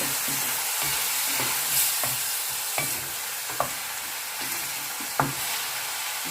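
Pork and takway adobo sizzle steadily in a pan after soy sauce goes in, with a continuous broadband fry and occasional sharp utensil clicks as the mixture is stirred, loud and close with no talking.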